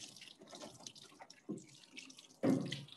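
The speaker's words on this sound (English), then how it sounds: "now I have to wash my hands with soap and water" Tap water runs into a sink while hands are washed with soap, in soft intermittent splashes and trickles with a louder gush near the end.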